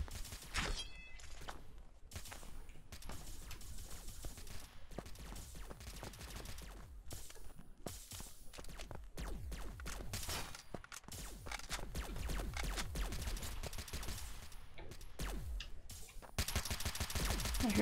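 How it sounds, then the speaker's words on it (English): Dense, continuous gunfire in the game Freeman: Star Edge with rapid bursts and scattered single shots, loud and unbroken throughout, with a brief sharper crackle near the end. "I hear gunshots from everywhere."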